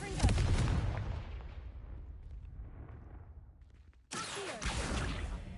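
Confringo blasting spell in Hogwarts Legacy: a loud booming blast that rumbles and fades, then a second sharp explosive burst near the end.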